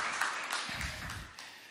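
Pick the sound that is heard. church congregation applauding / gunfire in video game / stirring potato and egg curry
church congregation applauding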